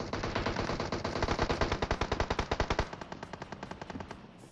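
Rapid machine-gun fire in PUBG rattles in a steady stream of sharp shots, slowing into a few spaced bursts at the end.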